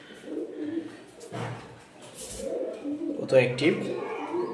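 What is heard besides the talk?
pigeons released on the floor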